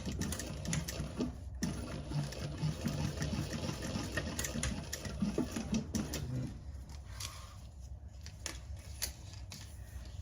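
Sewing machine top stitching, a fast steady run of mechanical needle clatter held close for several seconds, easing slightly lighter toward the end.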